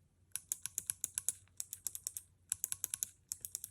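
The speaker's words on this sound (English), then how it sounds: "the navy has a heavy click bar. Definitely more of a sensation and a little bit different sound." Kailh Navy heavy clicky switches on a Kailh Chocolate low-profile mechanical keyboard click rapidly in quick bursts of crisp, sharp keystrokes, close and fairly quiet, with a short pause between runs.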